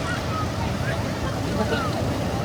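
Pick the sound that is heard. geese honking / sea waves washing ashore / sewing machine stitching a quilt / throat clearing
sea waves washing ashore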